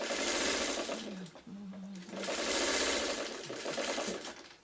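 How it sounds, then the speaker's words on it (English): A sewing machine stitches a quilt block made of triangles in fast whirring bursts, close and fairly loud, with a brief pause between runs and someone talking faintly over it. "you're sewing it from the side you can see the points on"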